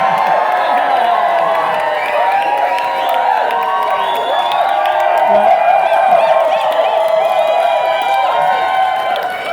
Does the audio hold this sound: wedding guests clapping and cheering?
yes